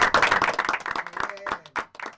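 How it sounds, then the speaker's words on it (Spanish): A small audience gives a short burst of applause at the close of a gathering, with dense clapping that thins out into a few scattered claps toward the end. "Un aplauso."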